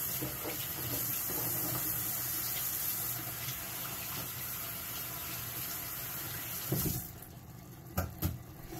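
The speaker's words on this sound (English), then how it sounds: "you always want to wash your hands with hot, soapy water" Hands washed under a hot running kitchen tap after handling raw chicken, a steady close rush of water lasting about seven seconds before it stops, followed by a few faint clatters.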